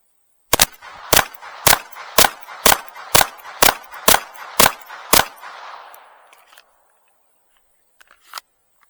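An FN 502 pistol fires about ten rapid, evenly spaced shots at a target, sharp loud cracks ringing out over an outdoor range, followed by a fading echo and a couple of faint clicks afterward.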